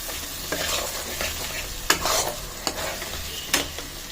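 Spiced masala for ghugni made with goat fat being stirred and fried in a kadai, with steady close sizzling broken by several sharp scrapes of the spatula against the pan.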